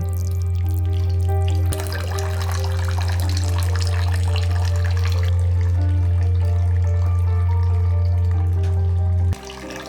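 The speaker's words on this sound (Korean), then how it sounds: "손으로 해도 물이 튀기고 있어요" Water splashes and sprays off a hand in a continuous churning patter over a loud, steady low hum that runs almost the whole time and drops out near the end.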